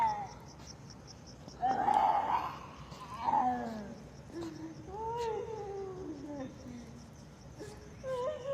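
A shrill, wavering scream like a cat's yowl rises and falls several times, with quieter wailing after it and some talk in the background.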